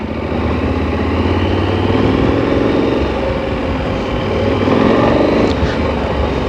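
KTM Super Adventure motorcycle engine riding off-road at a ranch, a steady loud drone with throttle shifts and rising revs, continuous and close throughout.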